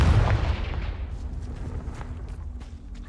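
A Confringo fire spell from Hogwarts Legacy booms loudly at the start, then its deep rumble slowly decays into a faint lingering tail.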